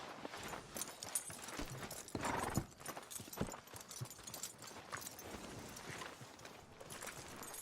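Horse hooves in the video game Red Dead Redemption II clip-clop at a steady trot, moderately close, with a brief snort and some rustling ambience, no talking.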